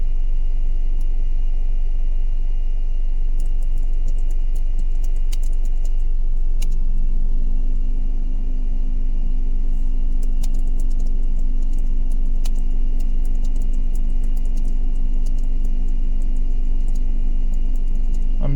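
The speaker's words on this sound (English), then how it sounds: "The car is running. And idle." A car engine idling steadily inside the vehicle, a continuous low hum with a faint higher whine, shifting slightly in pitch partway through while small clicks and ticks sound over it.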